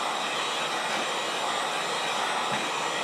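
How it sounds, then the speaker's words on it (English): A heat gun blows hot air onto the seam of a silicone sluice mat, making a steady, close, unbroken whooshing roar that holds at an even level throughout. "heat up the seam, just keep it heating it the whole way"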